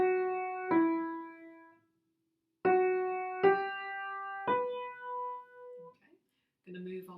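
A piano plays bars 7 and 8 of Polovtsian Dance as a few separate struck notes and chords, each ringing out and decaying, with short silences between them in a quiet room.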